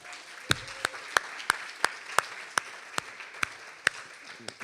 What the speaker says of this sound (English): Let's have another round of applause for Malika.